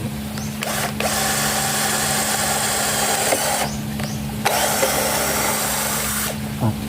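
A power drill with a metal-drilling bit drives a screw into a cracked wooden table, whirring loudly in sustained bursts, stopping and restarting a few times, with a steady low hum underneath.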